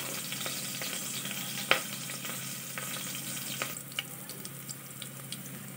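Two dried red chillies and four slit green chillies crackle in hot oil in a cooker, making a quiet, steady sizzle with a few small pops and one sharper knock, nearby and without speech.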